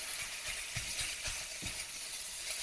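Sausage browns in a pan with a steady, broad sizzle and crackle, punctuated by soft scraping stir strokes against the pan, close and moderately loud with no one talking.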